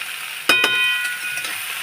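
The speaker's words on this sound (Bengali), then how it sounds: "পাঁচফোড়নটা বেশ ভাজা ভাজা হয়ে গেছে" Panch phoron spices fry in hot oil in a small wok for a wedding-style shukto, a sudden close sizzle that bursts in and then crackles on steadily.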